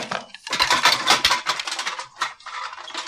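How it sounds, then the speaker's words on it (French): Cooking pots shaken and their lids lifted in a rapid, continuous clatter of metal on metal, loud and close with irregular bursts of rattling and clanging. "secoue les casseroles, soulève les couvercles"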